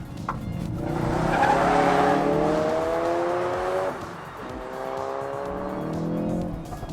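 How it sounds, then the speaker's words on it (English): A 2016 Ford Focus RS slides in drift mode, its engine rising and falling in pitch with gear changes while the tires squeal in long wavering howls, fairly close and loud. "drift mode makes the back end obviously slide around."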